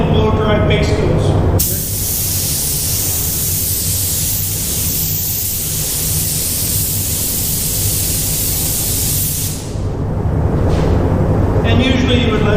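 Compressed air blowing over a freshly sprayed base coat to force-dry the paint, a loud continuous close hiss lasting several seconds, with brief noise before and after.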